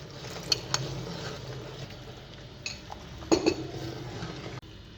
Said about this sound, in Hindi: चम्मच हिलाते रहना है इसका।